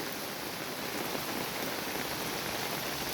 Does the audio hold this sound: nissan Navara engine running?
no